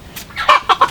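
A rooster gives a quick series of three or four short clucks, close and fairly loud, in under a second.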